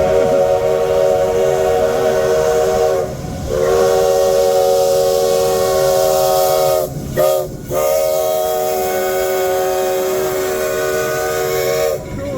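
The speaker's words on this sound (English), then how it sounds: "There's the train." A train passing close by with its whistle blowing loud and sustained, broken by two short gaps and then resuming, over the low rumble of the cars on the rails.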